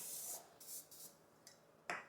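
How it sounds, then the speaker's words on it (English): Butter-flavored cooking spray misted into a baking dish in short hissing bursts, several quick sprays close by with brief pauses between them. "I'm just going to use this butter spray here so it doesn't stick."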